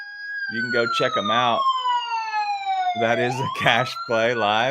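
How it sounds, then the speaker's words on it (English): A wailing police-style siren sweeping in long falling and rising tones, loud and steady throughout, with someone talking over it in bursts. "That's the siren."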